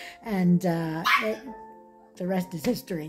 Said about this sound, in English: I'm sorry about the barking in there.